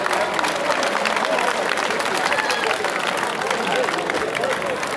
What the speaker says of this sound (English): Shall we acknowledge it with a very big round of applause?